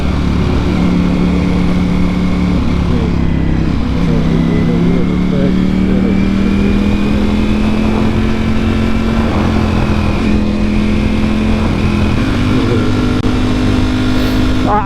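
A motorcycle engine runs steadily throughout, a loud close drone with slight pitch rises as the rider speeds along, with voices speaking over the engine noise.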